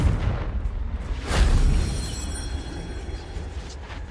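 A Confringo fire spell explodes in Hogwarts Legacy with a deep, rumbling boom that swells and then fades into a lingering roar.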